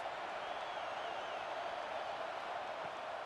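A high school football crowd in the stands cheers on the defense, heard as a steady, distant wash of crowd noise that holds at an even level throughout with no clear single voices.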